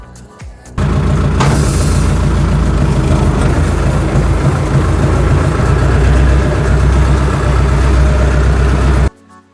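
A Lovol 354 tractor's engine idles close by with a seed drill hitched, a loud, continuous low chugging that runs steadily for several seconds with no talking.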